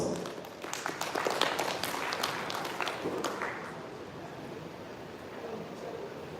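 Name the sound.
conference audience round of applause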